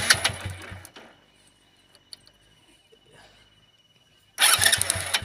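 A motorcycle's electric self-starter cranks and the engine catches; a loud, close burst of engine noise opens, a quiet stretch follows, then the engine roars back strongly near the end.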